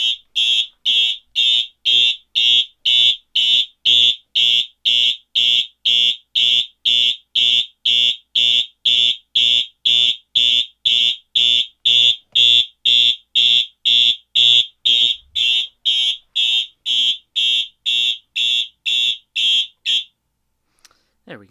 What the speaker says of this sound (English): So let's go ahead and give it a pull.